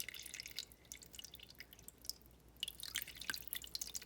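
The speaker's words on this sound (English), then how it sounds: "it gently puts the water into the tank" Faint, irregular dripping and trickling as water is gently let into an aquarium tank, soft close drops scattered over a quiet background, busier toward the end, with no voices.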